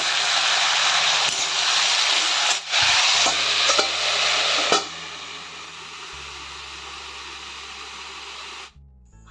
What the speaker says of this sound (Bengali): আর এদিকে দেখো আমি আলু ভাজাটা বসিয়ে দিয়েছি